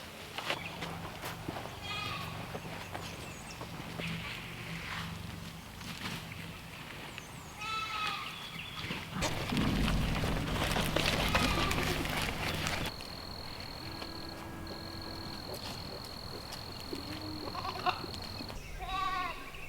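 Several goats bleat on and off at close range amid outdoor rustling in a garden and a few thumps, with a high whine in the later part.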